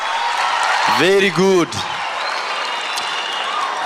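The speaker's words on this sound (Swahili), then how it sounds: "Makofi kwa mheshimiwa Ndindi Nyoro, makofi kwa mheshimiwa." An audience claps for politician Ndindi Nyoro at a students' career fair in Murang'a East. Dense, steady applause fills the whole stretch, and a voice speaks briefly over it partway through.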